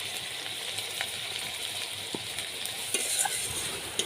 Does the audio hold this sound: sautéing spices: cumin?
yes